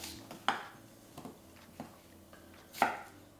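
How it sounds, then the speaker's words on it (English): A knife slicing an onion into thin slices on a board, a few sharp separate cutting knocks spaced irregularly, close and fairly quiet with no talk. "Again, just nice thin slices for the onion."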